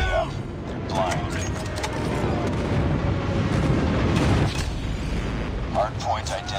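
Airstrike explosions in the mobile shooter Call of Duty Mobile, a sustained heavy rumble of overlapping booms building and fading, with brief voice callouts at the start and near the end.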